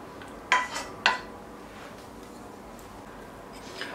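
Two sharp clinks of a spoon against ceramic dishes as sauce is spooned onto a seafood casserole, followed by quiet and a faint later tap, with no talking.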